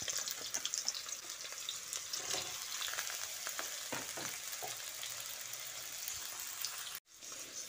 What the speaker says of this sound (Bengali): তেল গরম হয়ে এলে এর মধ্যে দিয়ে দিচ্ছি কেটে রাখা আলু।